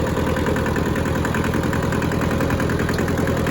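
A rusty Hinomoto tractor engine runs at a steady idle close by, a loud continuous chugging drone with a regular low pulse and fan whir, no voices over it.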